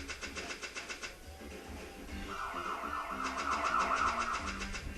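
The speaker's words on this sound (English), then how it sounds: "Why is that siren going off?" An alarm siren wails in the Thousand Arms video game, a steady rising tone swelling over pulsing electronic game music and growing louder toward the end.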